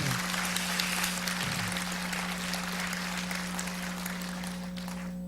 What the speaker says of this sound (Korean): 우리 청년들에게 힘을 내라고 우리 격려의 박수를 한번 드리겠습니다